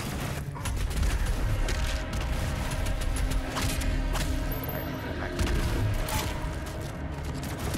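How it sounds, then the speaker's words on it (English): Demon hurling fireballs in DOOM Eternal, a dense barrage of booming impacts and blasts layered over constant game noise, loud and continuous with louder surges throughout. "He's just shooting fireballs at me."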